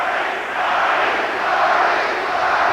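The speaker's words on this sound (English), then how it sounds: "Crowd chanting Marley's name." At a 1990 playoff game between the Portland Trail Blazers and the Phoenix Suns, an arena crowd chants player Marley's name. The roar is dense and sustained, with a rhythmic swell that never stops.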